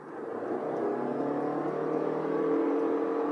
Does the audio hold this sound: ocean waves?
no